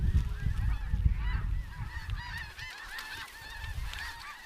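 A flock of geese honks repeatedly in North Dakota, many overlapping calls at close-to-moderate distance over a low rumble, with no talking.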